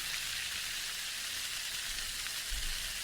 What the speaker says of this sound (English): That's like the sound of a bacon frying or something.